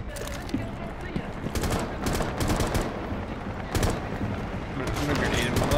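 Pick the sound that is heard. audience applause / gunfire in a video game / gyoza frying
gunfire in a video game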